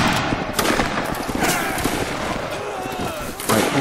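Musket volley fire in the Roblox Napoleonic battle game Waterloo, a dense crackle of overlapping gunshots sustained through the clip with a sharper burst near the end, close and loud over faint background chatter.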